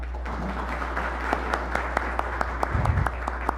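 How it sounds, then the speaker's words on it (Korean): At a policy forum on the mobile content industry, a room of attendees claps to welcome lawmaker Byun Jae-il, a modest, thin patter of applause with scattered sharper claps over a steady low hum, somewhat distant and fairly quiet. "큰 박수로 맞이해 주시면 감사하겠습니다."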